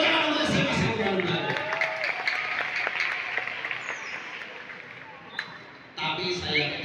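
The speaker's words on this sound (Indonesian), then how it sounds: "Tepuk tangan untuk SMA 1 Garuda." Audience at a youth mental health and anti-drug seminar applauds for SMA 1 Garuda alumni, dense clapping that swells at first, thins gradually, then picks up again near the end.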